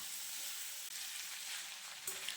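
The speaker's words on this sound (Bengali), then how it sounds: "আর আলুগুলো আমি 2 মিনিটের মতো ভেজে নেব" Two large cut potatoes fry in a pan with a steady, dense hiss of hot oil that stays continuous throughout, broken only by a brief dip and a small clink near the end. No talking.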